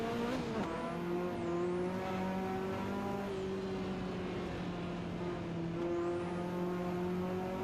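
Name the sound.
car engine revving in a video game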